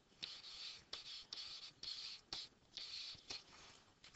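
Handwriting on paper, close and quiet: a series of soft scratchy strokes with short pauses between words, each stroke a brief rasp of pen tip across the page, no talking.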